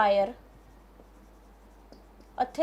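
Chalk or marker scratching and tapping on a board as a maths question is copied out, faint and sparse between short stretches of speech at the start and end.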